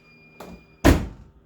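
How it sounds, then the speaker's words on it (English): A Toyota MR2 AW11 car door swings shut with a solid, heavy thunk, preceded by a softer shuffle of movement; close and fairly loud, no voices. "Go ahead and close the door."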